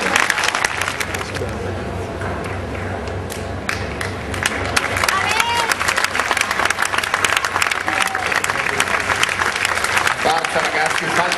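Audience applause at a fencing gala in Milan, with dense steady clapping filling the hall throughout, a few cheers rising over it and a voice talking underneath.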